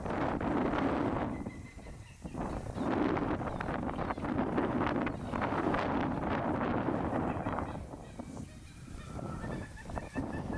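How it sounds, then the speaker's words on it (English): Gusty wind buffets the microphone outdoors at a private wildlife sanctuary where birds are nesting, with a rough, fluctuating roar throughout and bird calls mixed in. "that wind was really kicking up out there"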